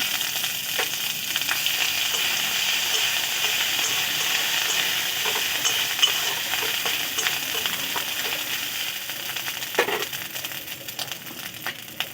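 Whole cumin seeds and crushed ginger sizzle steadily in hot oil for a teasel gourd (kakrol) dish, with salt added, a close, continuous crackling fry with a few sharper pops and stirring clicks throughout.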